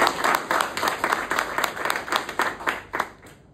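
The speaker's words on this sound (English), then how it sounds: "Can we give a round of applause to Vision Toastmasters?" Audience applause for Vision Toastmasters at a speech craft program, a dense run of many hands clapping that rises and then fades out over a few seconds, fairly close and with no voices over it.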